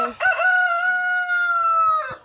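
A rooster crows loudly and close by, one long drawn-out call that rises and holds before breaking off.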